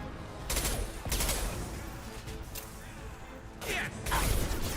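Rifle fire in Mass Effect comes in loud, close bursts of rapid shots and crashes, dense and harsh across the whole span, with brief gaps between volleys and no talk.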